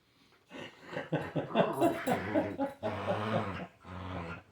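An old blind dog growls and grumbles close by, giving a run of rough, throaty snarls and whining breaths that rise and fall over several seconds, with no talk over them.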